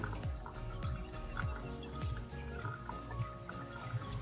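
Water trickles slowly into a DIY fish breeder box in an aquarium fish room, with a steady, close run of small drips and gentle bubbling gurgles repeating about every half second, quiet and without talk.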